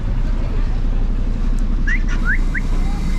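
A few short rising whistled notes sound over loud wind and traffic rumble on a street in El Salvador, faint and somewhat distant.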